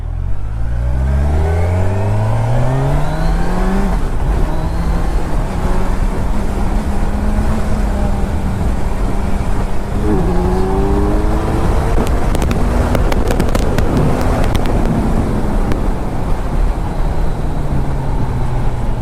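A superbike in sports mode accelerating hard under throttle, the engine note climbing steeply through the gears with shift breaks, loud and close with wind noise throughout.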